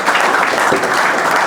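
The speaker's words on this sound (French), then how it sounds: "j'aimerais que vous applaudissiez pour vous-même." An audience at a programming contest in Gabon applauds. Dense, even clapping fills the short moment at close range, with no voices.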